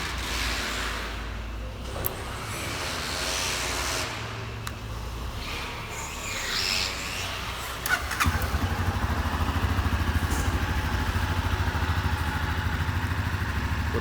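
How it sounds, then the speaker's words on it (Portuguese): Honda CB Twister 250 motorcycle engine running steadily close by, with a continuous low rumble that grows louder and rougher after a light rev partway through; no talk. "para vocês verem o funcionamento do motor dela"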